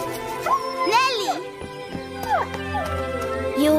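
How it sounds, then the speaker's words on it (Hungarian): A dog yips and whimpers in short, high, whining bursts, close by and fairly loud, with a person talking alongside it. "Jó kutya!"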